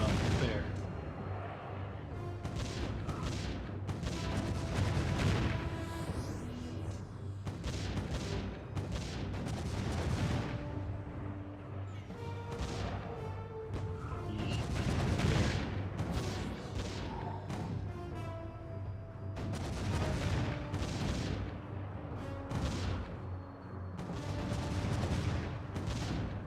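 Defense Grid defense towers fire continuously in dense, booming and crackling bursts over a busy layered game soundscape, loud and sustained throughout.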